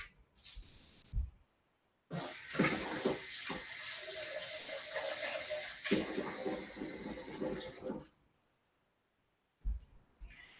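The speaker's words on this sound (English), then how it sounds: "I'm just going to get some extra water in here" Tap water runs steadily into a pot for about six seconds, a broad hissing splash that starts abruptly and stops cleanly, with brief clatters before and after in an otherwise quiet kitchen.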